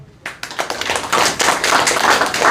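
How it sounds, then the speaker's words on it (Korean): A small crowd at a political campaign rally breaks into applause, a dense patter of many hands clapping close by that swells and continues without talking. "박수 한번 쳐주세요."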